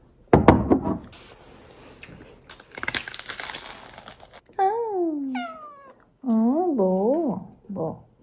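A cat meows repeatedly, with several drawn-out, wavering cries close by after a stretch of crinkling and rustling handling noises; a person talks in between.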